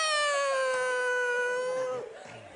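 A human voice imitating a frightened cat, one drawn-out, wavering meow-like wail held for about two seconds before fading, loud and close.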